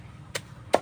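Two sharp, close chops of a blade through banana stalk, papaya or taro being cut for native pig feed, evenly spaced and crisp against a quiet low background.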